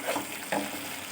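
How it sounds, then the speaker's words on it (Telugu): Tamarind juice goes into a simmering fish curry in a pan, producing a soft sizzle and bubbling with a brief splash, faint and close. "చింతపండు రసం వేస్తున్నానండి"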